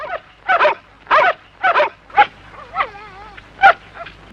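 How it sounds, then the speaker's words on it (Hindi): Dogs barking in a village scene from a 1979 Hindi horror film, with a string of five or six sharp, close barks in an uneven rhythm and a brief whimpering whine between them. "इनके पीछे कुत्ते भौंकते रहते हैं।"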